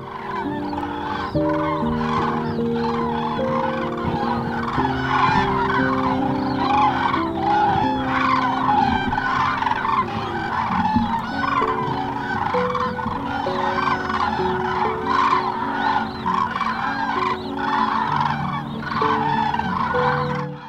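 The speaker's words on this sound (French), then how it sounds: "Les premières grues cendrées rejoignent le dortoir dans cette vaste lagune autour du lac de Puy-d'Arieux" A large flock of common cranes trumpets and calls continuously at a roost in a vast lagoon around the Lac de Puydarrieux, many overlapping loud bugling voices, near and far.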